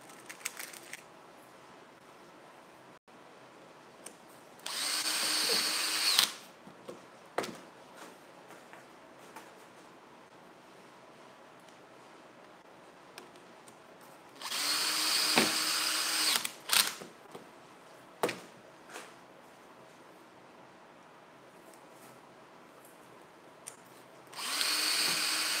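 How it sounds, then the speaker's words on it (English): A power drill drives tight screws in several bursts of high whirring, each a second or two long, separated by quieter pauses with scattered small clicks. "Man, this bit or these screws are tight."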